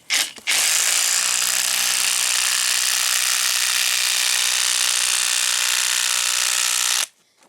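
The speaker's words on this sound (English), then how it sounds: "They come with a driver that just fits on a regular impact." Impact driver running a ground anchor down into soil while setting up a greenhouse, a loud, close, continuous rattling hammer-whir that starts abruptly and holds steady for about six seconds before cutting off.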